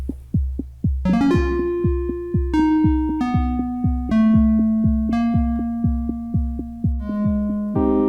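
A looping electronic drum pattern from an Elektron Model:Cycles with steady kick hits and chordal stabs, reverb sends turned all the way up so each hit trails off in a long reverb tail, loud and alone.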